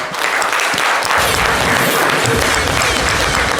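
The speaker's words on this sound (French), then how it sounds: "D'ailleurs, les applaudissements." Audience applause after a concert performance, dense steady clapping from a crowd, loud and continuous throughout with no break.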